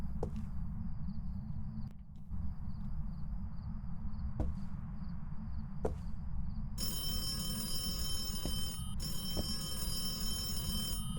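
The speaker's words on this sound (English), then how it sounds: "That phone will stay ringing." A telephone rings on and off in Phasmophobia over a steady low rumble, with sharp repeated bell tones filling the second half.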